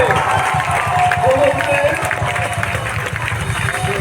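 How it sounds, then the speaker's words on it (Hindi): Loud, dense applause and crowd noise fill a parish youth seminar hall as Father Cornelius is honoured, a steady wash of clapping with voices mixed in. "जोर से तालियां सभी में होनी चाहिए।"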